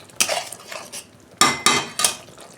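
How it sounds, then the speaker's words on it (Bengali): Spice paste with coriander powder being stir-fried in a pan for a home-style fish curry: a spatula scrapes and knocks against the pan in several sharp strokes, close and fairly loud, with no talking. "ভালো করে মশলাটা আমি কষতে নেব 2 মিনিট।"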